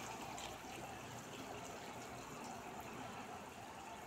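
Water is added to a gongura prawn curry, a soft continuous trickle and pour heard faintly and close up with no talking.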